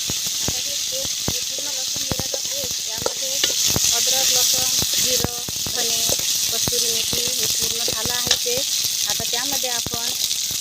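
Chopped onions go into hot oil seasoned with garam masala in a pan, setting off a loud, steady sizzle and crackle that continues throughout, with a voice talking over the frying.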